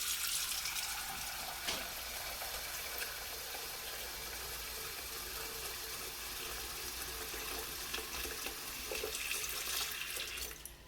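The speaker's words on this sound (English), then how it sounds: "enough water to cover them." Tap water pours steadily into a pot holding three eggs, a continuous close hiss and splash that holds unbroken for about eleven seconds with no voices.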